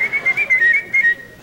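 A national whistling champion whistles without puckering, producing a clear, loud, high melodic line in short bursts of notes with small gaps between them, alone and close up.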